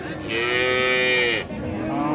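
A single long, loud moo from a Friesian dairy cow with calf close by at the Raniganj cattle market in Dinajpur, drawn out for over a second before trailing into a softer breath.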